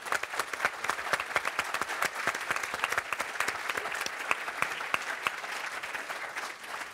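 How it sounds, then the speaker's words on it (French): An audience at a talk by the head of the Michelin group bursts into sustained applause, dense rapid clapping from many hands that holds steady for several seconds before easing slightly at the end. "une salve d'applaudissements, je vous propose"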